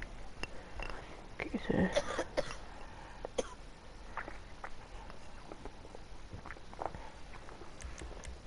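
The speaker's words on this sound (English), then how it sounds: "stop coughing in my live streams" Coughing and throat clearing from someone on a live stream, a few rough bursts early on with softer scattered noises afterward.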